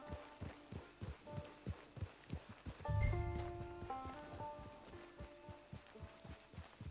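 A horse walks in the video game Red Dead Redemption 2, making steady, evenly spaced clip-clop hoofbeats near at hand, with a brief swell of game music or chimes midway.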